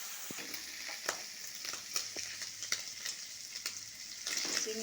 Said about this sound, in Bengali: চিংড়ি মাছ ভাজা আমার হয়ে গেছে।